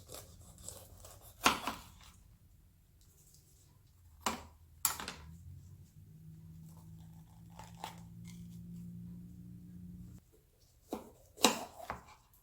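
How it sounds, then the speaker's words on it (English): A knife cutting peppers on a cutting board in a home kitchen, a few sharp crunchy chops spaced out over a quiet background with a low hum in the middle, near and without talking. "So now we want to cut up our peppers."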